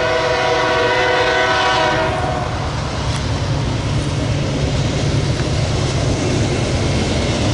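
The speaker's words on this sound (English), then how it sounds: "Alright guys, here comes the tanker train. We got a dash 9 liter." A BNSF tanker train led by a Dash 9 locomotive rolls past at close range, a horn sounding over the first two seconds before the steady roar and rumble of wheels and cars fill the rest.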